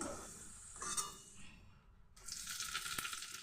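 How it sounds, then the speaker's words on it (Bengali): Bay leaf and whole cumin seeds sizzle in hot oil left over from frying potatoes, a hissing crackle that swells, briefly drops away, then returns louder, with faint stirring clinks and no voices. "আর ওই একই তেলের মধ্যে ফোড়নে দিয়ে দিচ্ছি তেজপাতা আর এক চামচ গোটা জিরে"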